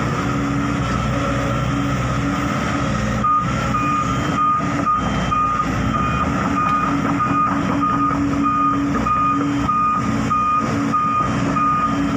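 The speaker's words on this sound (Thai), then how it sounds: "นี้ก็จะได้ยินเสียงรถนะครับ" Steady road traffic rumbles close by, with a truck's repeated reversing beeps sounding over the constant engine noise.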